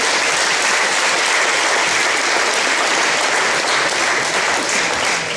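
Sustained applause from a seated awards-ceremony crowd honouring parents and coaches at a student-athlete recognition event, dense and steady throughout without pause.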